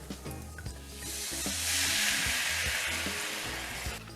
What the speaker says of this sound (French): On va déglacer au vin rouge.